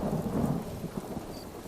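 Thunderstorm in Skyrim, a low rumble of thunder rolling in at the start over steady rain hiss that continues faintly after the rumble fades.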